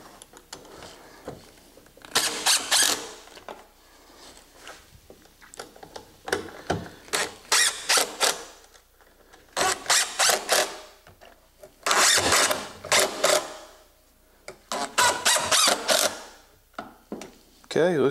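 Power driver sinking screws into a wooden miter saw station, with repeated bursts of whirring and ratcheting separated by short pauses, up close and fairly loud.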